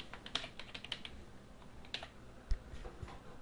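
Keys tapped on a computer keyboard while entering a MySQL UPDATE command, a sparse run of light clicks spread irregularly across a few seconds, close and quiet in a still room.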